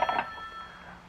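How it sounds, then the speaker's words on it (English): A 1940s telephone rings faintly and far off, a brief burst of trilling bell tones that fades into a low hiss. "The telephone sounded like it was ringing miles away."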